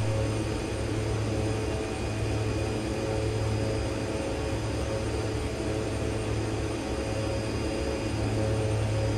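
Aircraft engines in the X-Plane 11 flight simulator drone steadily during a climb at 4,000 feet. A loud, continuous hum with a low tonal rumble stays unbroken throughout, with no talking.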